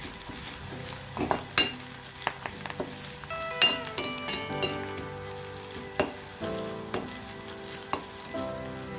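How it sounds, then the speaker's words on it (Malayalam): Curry leaves and crushed spices frying in a pan, with crackling sizzles, sharp pops and the scrape of stirring at irregular intervals, close and clear with no talking. "ഇനി ഇതിലേക്ക് രണ്ട് കറിവേപ്പിലയും കൂടി ഇട്ട് കൊടുക്കുന്നുണ്ട് ഇത് നന്നായി ഒന്ന് മൂപ്പിച്ചെടുക്കാം"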